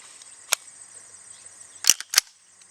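Chiappa M4-22 rifle firing Remington .22 rounds at a target roughly 50 yards away outdoors: three sharp, dry cracks, one alone and then two in quick succession, over quiet background hiss.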